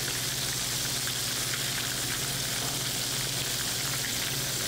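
Steady, dense sizzling of food frying in hot oil, a continuous crackling hiss close by with no voices.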